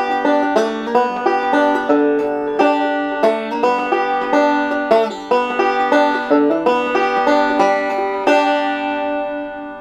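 A plucked string instrument plays Part B of the old-time tune Cripple Creek, a quick, even stream of bright, ringing notes with a regular bouncing rhythm, close and unaccompanied, the last note left to ring out.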